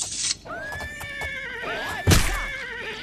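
A horse in the video game Oblivion whinnies loudly twice in a row, each call a long, quavering neigh. A brief thump lands between them, with no other sound around.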